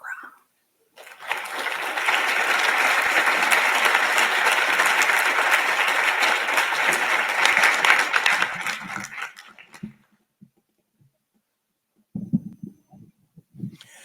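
An audience at a UMB Martin Luther King Jr. and Black History Month celebration applauds after a speech, a sustained burst of clapping that rises, holds for several seconds and fades to near silence, followed by a few faint sounds.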